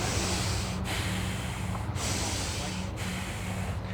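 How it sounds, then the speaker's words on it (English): A runner breathes through the nose in sharp, steady snorting breaths about once a second over a continuous rushing background, with no talking. "I'm gonna breathe 10 breaths through my nose"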